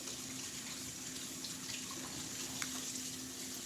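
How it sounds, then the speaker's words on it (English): Tap water runs steadily into a kitchen sink while something is rinsed beneath it, a constant close splashing hiss with no talk. "I'll wash this off real quick and then we will get going."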